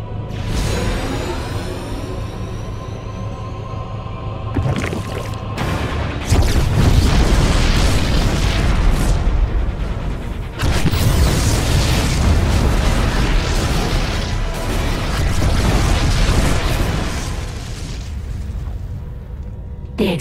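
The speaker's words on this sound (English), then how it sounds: "The explosions have stopped." Continuous heavy booming explosions in StarCraft II: Heart of the Swarm, with rumbling blasts and debris crackle, loud and close, one burst following another for the whole stretch.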